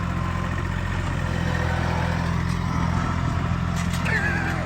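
A tractor with a front bucket works nearby, its engine chugging at a steady mid-pitched idle with faint clatter and a brief higher whine near the end.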